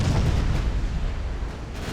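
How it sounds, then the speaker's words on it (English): Sixteen-inch naval shells strike a battleship in a naval warfare game, making a dense, continuous heavy rumble of impacts and blasts throughout. "We just hit Revenge with some pretty damaging 16-inch shells."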